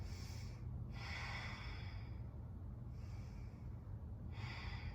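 Slow, deep breaths are held during a yoga pose, each inhale and exhale a long airy whoosh in a steady rhythm, close and faint over a low background hum.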